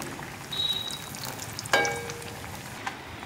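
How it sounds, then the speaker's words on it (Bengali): Gaja sweets frying in hot oil, a soft steady sizzle with a sharper crackle and bubbling burst midway, close and fairly quiet with no voices. "এগুলো এইভাবে ভেজে নেবো, একই রকম করে সবগুলো ভেজে নেব"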